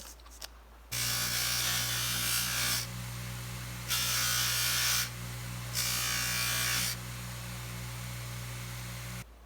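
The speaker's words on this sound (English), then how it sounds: "We're going to polish this chain now and make it shiny like the rest of the bracelet" A small electric polishing tool works a jewelry bracelet's chain extender, its motor whining in a steady hum while sharper buzzing bursts come and go in several separate passes, close and with no talk.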